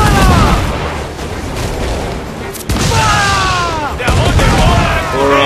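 Heavy cannon broadsides roll through a naval battle in Assassin's Creed 4 Black Flag, with booming volleys and rumbling impacts filling the whole span over harmonic voice-like tones and game noise.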